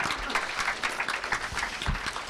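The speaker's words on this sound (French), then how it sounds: "Une bonne main d'applaudissements" An audience applauds at the close of a French-language public interview, a steady dense clapping that sustains for a couple of seconds without pause, fairly close and alone.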